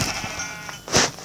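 A sheep bleats in a video game, two short nasal calls with the second louder and longer, close and alone with no talk.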